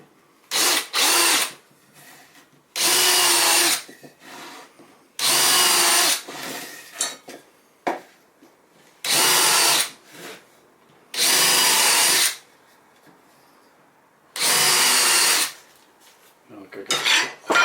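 A power drill countersinks screw holes in a wooden WWII 6lb anti-tank gun chest being made into a workshop cupboard. Six loud, close bursts of whirring, each a second or two long, come with short gaps and light handling clatter.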